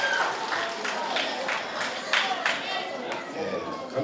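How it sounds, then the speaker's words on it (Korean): Audience applause and cheering at a school Christmas worship service, a sustained wash of many hands clapping with excited crowd shouts, filling the room and rising in bursts. "다시 한 번 더, 우와! 하면서 더 큰 박수로, 시작!"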